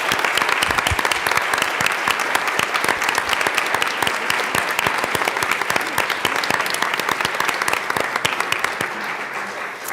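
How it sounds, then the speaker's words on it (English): A full room of lawmakers in the Colorado House chamber applauds, a dense, loud, sustained burst of clapping that holds steady and eases slightly near the end. "please join me in a round of applause for the contributions of Zechariah Hammond"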